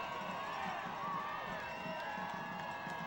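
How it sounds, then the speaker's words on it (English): A Davison high school football crowd grows loud and rowdy, a dense wash of distant cheering and shouting from the stands during a 2006 game. "Davison crowd getting a little loud over there. Getting rowdy."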